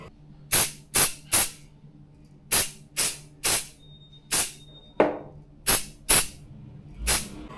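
Repeated short bursts of 3D scanning spray from an aerosol can, about a dozen quick hissing puffs at irregular intervals, close and loud with quiet gaps between.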